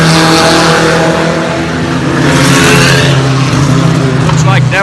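Race cars on a dirt racetrack in California, loud engines roaring and revving continuously, with people talking over the noise.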